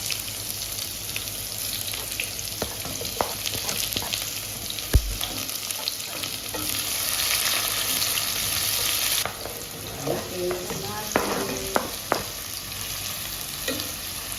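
Garlic and then onion sauté in a pan for ginisang togi, a steady close sizzle with scattered spoon clinks and stirring scrapes, the frying hiss easing partway through.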